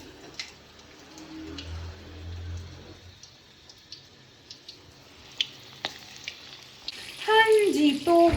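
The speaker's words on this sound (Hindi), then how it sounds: "हाँ जी, तो ये फ्राई हो रहा है" Chicken coated in egg, cornflour and flour fries in a pan with a soft, steady sizzle and scattered pops, and a voice comes in near the end.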